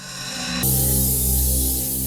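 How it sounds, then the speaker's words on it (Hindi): Aerosol spray hisses in one sustained burst onto burnt paper pieces, starting abruptly after a brief quiet moment and continuing steadily, close and fairly loud with no talk. "जरा स्प्रे देना प्लीज"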